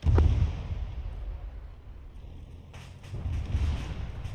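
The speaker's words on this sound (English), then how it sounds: "I'm hearing something cooking off." Ammunition cooking off in a military video game with Bad Dudes BMD-3 combat, heard as a heavy low explosive boom at the start, then a dull rumbling wash and another swelling burst of distant blasts, with no talk.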